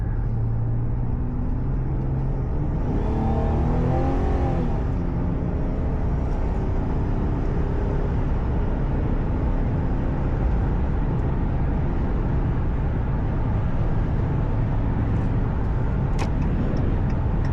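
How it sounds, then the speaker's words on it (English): Cabin view of a 2021 RAM 1500 Classic pickup truck accelerating in traffic, a steady low engine drone with road roar building and holding, close and continuous, a brief voice early on. "Just get on it a little bit."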